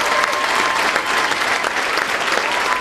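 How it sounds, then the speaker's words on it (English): Guests at a shad derby coronation ball applaud the parents and families of the young ladies, a steady, full roar of many hands clapping together, loud and continuous throughout. "Could we have a round of applause for the parents and families of these young ladies?"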